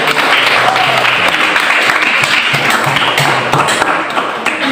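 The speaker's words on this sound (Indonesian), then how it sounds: "Dan mari kita berikan tepuk tangan" Classroom students applauding a group presentation, a loud, close burst of continuous clapping with sharp individual hand claps audible throughout.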